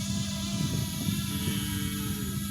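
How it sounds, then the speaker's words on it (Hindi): An izi mini X nano drone flies with a continuous buzzing, whining rotor drone that holds steady and fairly close throughout, with no voices. "उड़ तो गया है ये ड्रोन"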